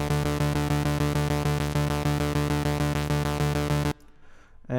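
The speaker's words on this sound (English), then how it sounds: "So to get this sound, you really just need two oscillators," Synthwave bass patch built in Massive from two detuned sawtooth oscillators, the second an octave lower, playing a steady, loud, buzzy repeated pulse pattern for about four seconds before cutting to near silence.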